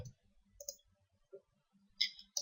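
A computer mouse clicks a few times in a quiet room while using Dreamweaver, giving sparse, sharp, faint ticks spaced apart.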